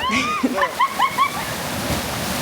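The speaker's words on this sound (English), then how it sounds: "took me to the top of the small waterfall and said that you could go down it like a slide" Water rushes and splashes as someone slides down a small waterfall in Jamaica, and voices cry out and exclaim over the loud, steady torrent.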